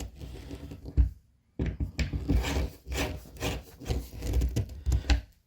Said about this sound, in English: Screwdriver and just run them in